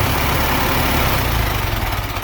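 Allis-Chalmers D17 Series IV tractor engine running smoothly, a loud, steady, even drone with constant low rumble and no break, heard up close without talk.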